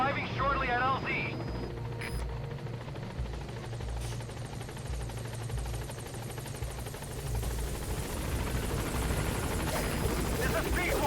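The B-Quad support helicopter from Metal Gear Solid V thrums steadily as it arrives at a landing zone, a loud continuous rotor drone with brief electronic tones early on.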